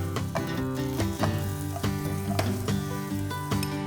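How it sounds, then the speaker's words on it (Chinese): Bitter melon tossed on high heat into a wok with pan-fried tofu and luncheon meat, a loud steady sizzle with repeated clinks and scrapes of stirring, close and alone. "接着转大火下苦瓜，"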